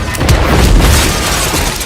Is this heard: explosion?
yes